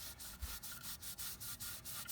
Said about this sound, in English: We're just going to wipe this seal down some, just to clean all the grease and grime away.